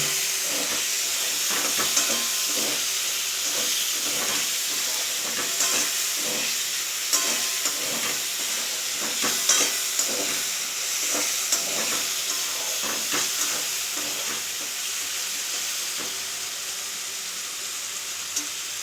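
Three medium tomatoes fry in a hot pan for Pakistani chicken, giving a steady, loud hissing sizzle that runs the whole way through, dotted with small pops and the scrape of stirring.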